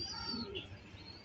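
Faint, soft cooing and chirping from pigeons around a loft while racing pigeons return home, heard low against steady background hiss.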